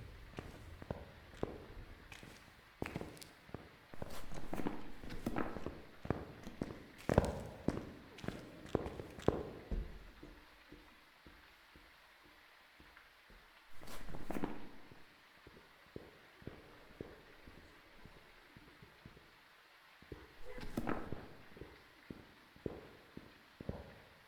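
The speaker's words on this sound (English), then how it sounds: "It almost sounds like a myling with the way that footsteps comes in." Ghost footsteps during a hunt in Phasmophobia, a string of soft thudding steps in irregular bursts, close then fading, with quieter gaps between clusters.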